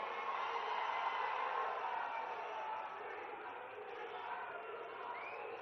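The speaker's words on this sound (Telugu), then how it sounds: "లేచి చప్పట్లతో స్వాగతం పలకాల్సిందిగా అందరికీ విజ్ఞప్తి చేస్తా ఉన్నాను" A large audience stands and applauds to welcome the state chief minister at a public meeting in Telangana, a dense, continuous wash of clapping and crowd noise that holds steady throughout.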